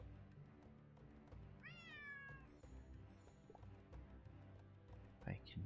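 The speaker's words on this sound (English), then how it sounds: "There's that cat again." A cat in a Nancy Drew video game gives a clear, drawn-out meow with a rising then falling tone, followed by a softer second call, heard over quiet game background and faint voices.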